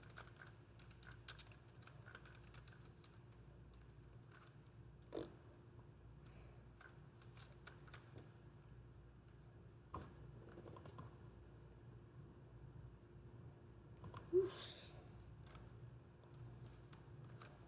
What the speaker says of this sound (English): I cannot type properly.